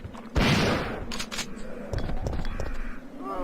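Resident Evil 3 gunfire: a loud, close shot bursts out early, followed by a few sharper cracks and a lingering rumbly game soundscape.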